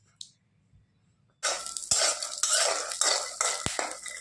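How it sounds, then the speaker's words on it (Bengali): Peanuts are fried in a pan in a home kitchen. After a near-silent start, a utensil scrapes and stirs in a steady rhythm with metallic clinks and knocks against the pan, close to the microphone. "আমি এখন এখানে একটু বাদাম ভেজে নিচ্ছি"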